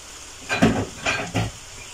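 Vegetable rice stirred in a hot pan, producing three short scraping sizzles close up against a quiet background.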